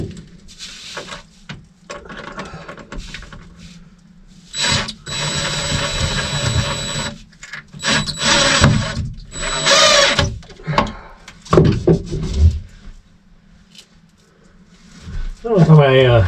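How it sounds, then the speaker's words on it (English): A power screwdriver drives screws while a water pump is installed on a small boat, with several loud whirring bursts of varying length between pauses and someone talking in between. "I don't know if my screwdriver's going to fit in this one."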